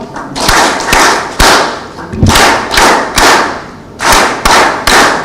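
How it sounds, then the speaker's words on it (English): An audience at a county health reforms report launch delivers a loud, rhythmic group clap, a series of synchronized thudding claps in a steady beat, about eight or nine in a row. "Can we give them a kilo clap?"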